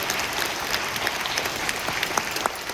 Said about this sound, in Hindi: जोर से ताली बजा लीजिए।